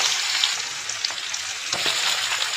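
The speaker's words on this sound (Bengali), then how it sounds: "এবারে আমি একটা পেঁয়াজ দিয়ে দিলাম।" Sliced onion sizzles in hot oil in a wok right after the fried tempering spices, giving a steady close hiss with a few soft stirring scrapes.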